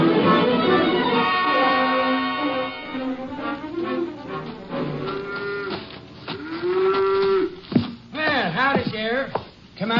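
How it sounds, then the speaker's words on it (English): Cow mooing on a farm during milking in a 1950s radio drama, several long drawn-out moos, close and loud, with people talking over and between them. "Let go of that cow for a minute, Luther."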